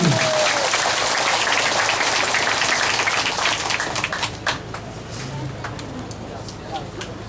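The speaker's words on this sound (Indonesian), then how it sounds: "Kita tepuk tangan untuk Mama, kita tepuk tangan" A crowd at a provincial governor's visit and aid handover in Kupang, East Nusa Tenggara, claps in a thick burst that thins out after a few seconds, giving way to scattered sounds and voices.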